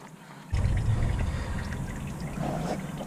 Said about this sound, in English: maybe just give it a full turn and you'll see all the coolant start coming out